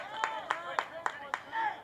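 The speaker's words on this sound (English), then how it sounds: "Both benches trying to cheer their respective teammates on." Baseball bench players clapping at a varsity high school game: five sharp, evenly spaced claps about a quarter second apart, fairly close, followed by a brief shout.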